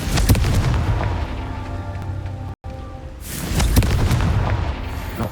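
Confringo spell explosion in Hogwarts Legacy, a loud rumbling blast followed by crackling debris that cuts out briefly before a second booming burst and clatter, with no voices.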